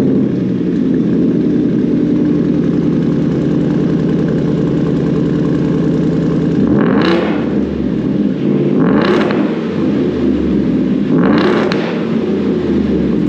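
A 2021 Ford F-150 pickup with a V8 engine idles steadily in a garage, then is revved three times in quick succession, each blip rising sharply and falling back to a deep, even idle.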